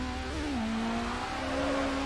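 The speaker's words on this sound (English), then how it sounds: "It has a four-rotor turbocharged rotary engine, and it is loud." Car with a four-rotor turbocharged rotary engine in Need for Speed Underground, a steady droning engine note that dips and then climbs in pitch, moderately loud and heard alone.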